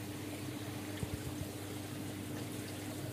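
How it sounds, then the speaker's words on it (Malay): Water gurgles and drains steadily out of an aquaponics grow bed as its bell siphon triggers, a continuous low wash with a few soft glugs, fairly quiet and unbroken by talk. "Sifon telah berlaku. Tadi air dah penuh. Dan air secara automatik keluar."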